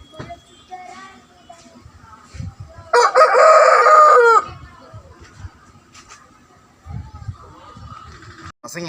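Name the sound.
fighting rooster crowing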